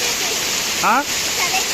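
A waterfall in Maredumilli forest gives a loud, steady roaring rush of falling water that never lets up, with a short spoken phrase briefly heard over it.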